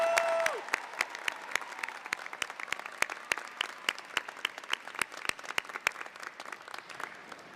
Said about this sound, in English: Can we give up one other round of applause for Katie?